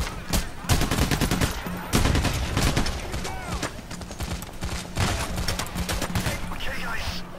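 Dense gunfire in the video game Payday: The Heist comes as rapid bursts of automatic shots and single cracks throughout, loud and close, with voices talking over it.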